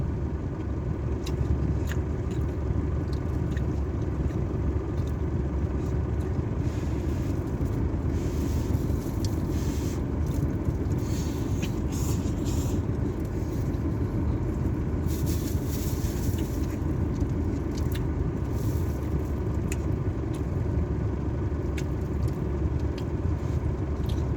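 A farm vehicle's engine runs steadily at a Thai cattle farm in Nakhon Sawan province, its low rumble constant and moderately close for the whole stretch, with no voices over it.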